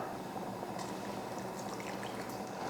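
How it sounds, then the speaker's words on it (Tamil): Water is poured into a mixer jar holding a ground coconut masala with cumin, small onions and dried red chillies, a soft continuous splashing trickle heard close, without speech. "இப்போ இதை தண்ணி ஊற்றி அரைச்சி எடுத்துடலாம்"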